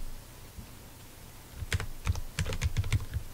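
Keys on a computer keyboard clatter as Java code is typed at a command prompt, starting with a lone tap and building into a quick, irregular burst of close, crisp keystrokes in the second half.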